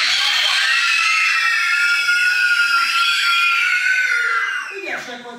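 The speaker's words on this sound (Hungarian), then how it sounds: "Akkor most kérlek egy sikítást." A crowd of children at a kids' magic show lets out one loud, sustained high-pitched scream that fades near the end.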